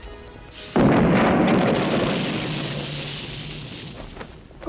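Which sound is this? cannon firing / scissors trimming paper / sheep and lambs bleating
cannon firing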